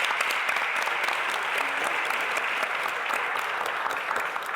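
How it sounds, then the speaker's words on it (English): Audience applause in a Family Feud Nigeria game-show studio, dense steady clapping from a crowd that holds throughout and fades slightly at the end. "Give her a round of applause."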